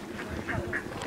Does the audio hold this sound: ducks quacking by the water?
yes